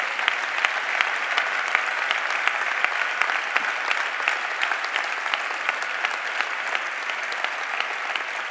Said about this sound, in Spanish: os pido un aplauso fraternal y caluroso